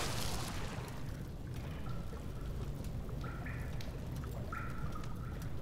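Sewer water flows steadily in Amnesia: The Dark Descent, a constant rushing, pouring wash with a few thin tonal game sounds briefly rising above it.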